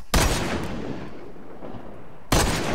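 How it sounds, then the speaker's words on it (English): Two loud sniper rifle gunshots from the FPS Game Starter Kit, each a sharp full-range crack; the first rings out in a long decaying tail lasting about two seconds before the second shot hits. "let's try the sniper"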